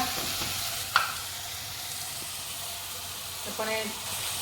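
Cumin seeds roast in a pan for aloo kachori, giving a soft, steady frying hiss broken by a couple of sharp utensil clinks against the pan.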